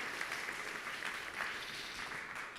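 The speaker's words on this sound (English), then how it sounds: "Giving them another round of applause." Audience applause at a high school scholarship awards night honoring drama students, a steady, even wash of many hands clapping at a moderate distance with no break across the short stretch.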